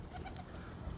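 Pigeons softly cooing inside a loft, a faint, low, rumbling murmur with no talk.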